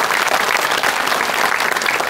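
Dense, steady audience applause fills a comedy show studio, loud and continuous from start to finish with no voices over it.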